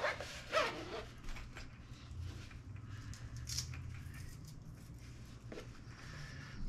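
Velcro strip pressed onto a storage case, giving a short ripping, rustling burst near the start followed by quieter handling scrapes and low background hum.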